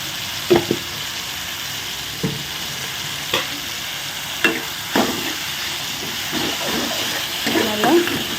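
Tomatoes with salt being stirred in a pan for a tomato curry, giving several soft scraping stir strokes over a low steady sizzle, with no talk.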